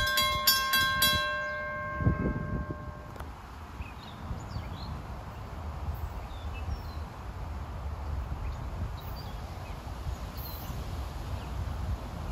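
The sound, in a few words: railroad crossing gates going down for train 728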